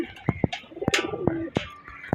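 Soft pigeon coos and bird calls repeat in short bursts at close range in a pigeon loft, with a few sharper chirps and faint background noise.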